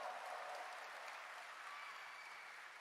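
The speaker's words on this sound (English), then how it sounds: "Wow, what a great crowd." A large live audience applauds at the Gamescom 2023 Opening Night Live show in Germany, a dense, steady wash of clapping that holds throughout with no break.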